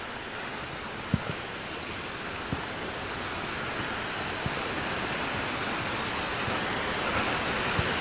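A creek rushing near Adams Falls by Grand Lake, Colorado, a steady full hiss of flowing water filling the air, with a few faint clicks and knocks along the trail.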